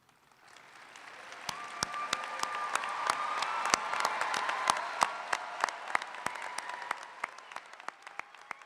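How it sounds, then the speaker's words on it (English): Applause rises from a commencement audience honoring standing students, building steadily to a full wash of clapping with sharp individual claps standing out, then tapering slightly toward the end. "Please stand as we applaud you on your amazing accomplishment."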